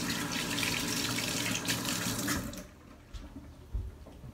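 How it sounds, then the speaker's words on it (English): Tap water running hard into a sink as hands are washed under it, a loud close splashing rush that cuts off partway, leaving faint drips and a few small knocks. "But first I'm gonna wash my hands."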